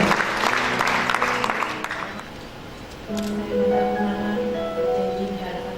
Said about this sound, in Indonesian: Mari kita berikan tepuk tangan saudara buat masing-masing ya